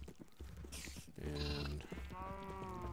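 Sheep in a barn-building video game bleat loudly in several drawn-out, wavering calls that overlap one another, close and prominent against a faint background.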